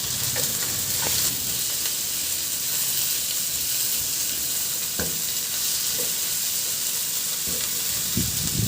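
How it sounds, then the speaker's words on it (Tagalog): Onion and tomato sautéing in a pan: a continuous bright sizzle with scattered clinks and scrapes of stirring, fairly close and without talk. "Igisa ko na rin yung sibuyas. Sunod ko na rin yung kamatis."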